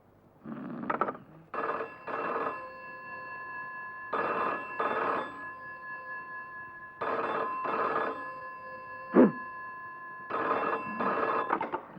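A telephone rings in repeated double trills with clear pauses between them, with a brief sharp knock partway through.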